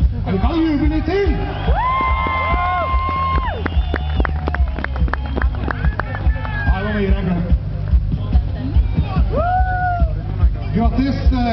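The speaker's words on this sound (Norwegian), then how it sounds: "Du kan juble litt til!" A crowd cheers and whoops for rally driver Petter Solberg at Rally Norway 2009 in Hamar, a dense hubbub of excited voices and shouts with whistles and announcer talk over it.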